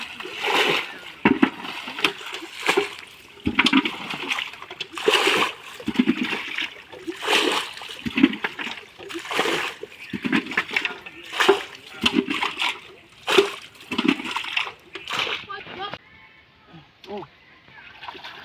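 Water is scooped and thrown out during village fishing, a series of repeated splashes and sloshes at close range, with people talking over them throughout.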